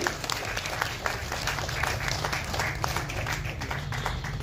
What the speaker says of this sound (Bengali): করতালি আপনাদের